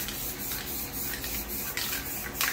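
A spray paint can hisses out black paint in several short bursts and longer sprays, close and fairly loud, for beginner planet spray paint art, with no talking.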